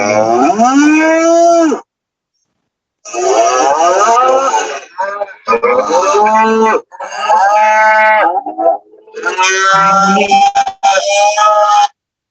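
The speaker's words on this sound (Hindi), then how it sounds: "हमने गौ माता में टच किया तो इसमें गाय की आवाज निकल" A cow moos loudly several times in separate drawn-out calls with short pauses between them, an electronic sound effect from a digital talking Bhagavad Gita book, clear and close, with no other sounds.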